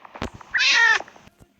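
A cat meows once, close and loud, a drawn-out cry with a few faint shuffles and thumps around it.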